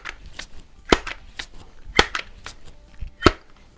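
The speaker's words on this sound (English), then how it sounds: "So I'm going to pump it up 4 times." Sheridan Blue Streak .20 caliber multi-pump air rifle being pumped in a garage: three sharp, loud clacks about a second apart at the end of each stroke, with softer mechanical rustle between them.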